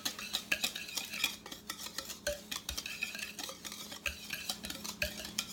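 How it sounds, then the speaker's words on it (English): A whisk rattles briskly around a bowl, stirring dry ingredients for cheesy biscuits, in quick repeated clicking strokes, close and moderately loud with no talk. "I'm going to go ahead and whisk them together"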